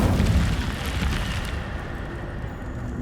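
A fiery burst from the Incendio spell in Hogwarts Legacy erupts as a dense, loud whoosh of flame that swells and then slowly fades out over a few seconds.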